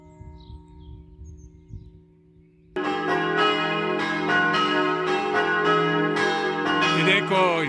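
Church bells peal loudly right in front of a large bell tower, a dense ringing chorus that bursts in suddenly after a quiet stretch of low ambient hum and continues with overlapping strikes.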